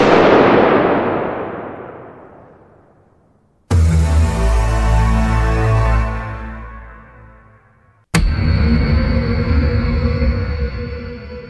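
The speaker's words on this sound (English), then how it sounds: "Bang! The deafening shot echoed in the enclosed space" Loud gunshot sound effects in a dramatized story set in an enclosed space: three sharp, booming bangs, each followed by a long echoing decay, with no voices.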